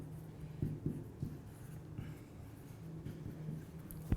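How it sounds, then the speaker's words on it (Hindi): An equation is written on a classroom board, heard as faint, close scratching with scattered light taps from the stroke marks, and no talking. "तो सबसे पहले हम लोग इक्वेशन लिखते हैं।"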